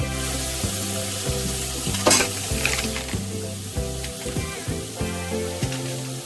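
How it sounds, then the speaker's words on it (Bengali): Mustard paste and spices fry in hot oil with a steady sizzling hiss, accompanied by a sharp scrape or clatter about two seconds in, all over background music. "এখন ভালো করে কষিয়ে নেব যতক্ষণ অবধি তেল ছাড়ছে।"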